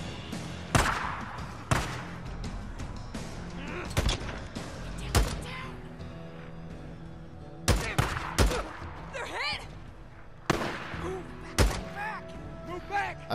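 Single gunshots from a firearm in the video game Days Gone, fired one at a time at uneven intervals, each a sharp loud crack with a short tail, alone with no talk.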